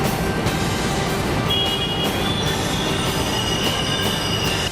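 A metro train on a BMRCL trial run in Bengaluru rumbles steadily along the track, with a loud continuous roar, wheel squeal and faint rhythmic clicks of the wheels.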